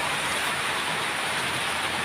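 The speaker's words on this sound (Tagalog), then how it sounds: "Umulan dito. Pero hindi masyado malakas, guys, ang ulan." Light rain falling outdoors, a steady even broadband hiss with no distinct drops standing out, continuous and moderately loud throughout.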